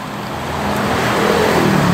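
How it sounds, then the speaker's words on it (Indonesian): A Mercedes-Benz E300 AMG Line idles while warming up, a steady low engine hum with a slight rise in level, close by and without talk. "kita sekalian panasin mobilnya"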